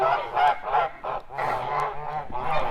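Several Kholmogory geese honk repeatedly at close range, a rapid series of nasal calls in an uneven rhythm.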